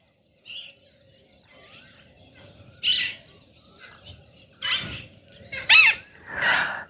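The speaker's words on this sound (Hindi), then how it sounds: "चिड़ियाएँ उड़ रही हैं। सुबह सुबह की जो ये आवाज़ें हैं ना," Morning birds squawk and chirp in scattered bursts, some close and loud, others fainter, with quiet gaps between calls, heard from a terrace.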